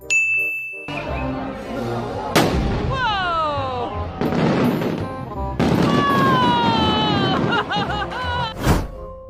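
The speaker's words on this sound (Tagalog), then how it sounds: "pinakamalaki at pinakamagandang fireworks na mapapanood mo sa isang putukan" A large fireworks display goes off nearby. Whistling rockets glide downward in pitch between sharp bangs and ringing, clanging bursts, with a few loud booms spread over the stretch.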